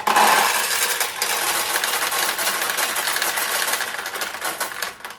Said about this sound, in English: you just start with a handful of pachinko balls